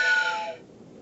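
A large toy Thomas the Tank Engine train whistle sounds a single short, reedy, breathy toot of about half a second, close and moderately loud, before fading to a quiet room.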